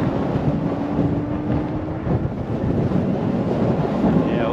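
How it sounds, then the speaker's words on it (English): Wind buffets the microphone during a trail ride on an eAhora X5 Plus e-bike, a loud, constant, rumbling rush that fills the whole stretch. "That wind ain't killing you."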